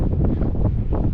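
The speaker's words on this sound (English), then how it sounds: "and it's windy" Gusty wind buffets the microphone on a forest trail strewn with fallen trees, a loud, rumbling whoosh throughout the brief moment.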